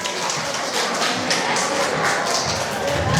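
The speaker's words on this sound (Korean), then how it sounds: "박수 한번 부탁드립니다" Audience applause at a church summer retreat, a steady dense patter of clapping hands that fills the room at a constant level throughout, with no talk over it.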